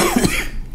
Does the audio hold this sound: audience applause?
no